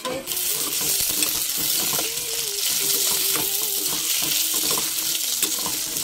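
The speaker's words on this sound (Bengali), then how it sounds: "তো এখন আলুটা ভেজে নেব ফার্স্টে।" Potatoes fry with salt and turmeric in a wok holding a little leftover oil, a dense, loud crackling sizzle that runs throughout with frequent small stirring clicks.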